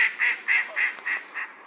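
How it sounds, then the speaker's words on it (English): Canada geese honking in a park, a series of six evenly spaced, nasal honks repeating about every quarter second, fairly close and loud over quiet background. "we seem to be absolutely overrun with Canada geese"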